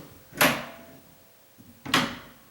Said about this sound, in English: I can open and close this door nice with hardly any effort now.